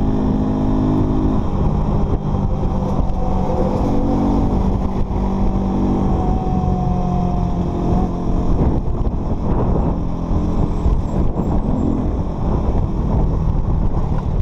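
A 2023 Shineray Jet 125 motorcycle rides along a highway with a steady, loud engine drone mixed with heavy wind rush against the microphone throughout.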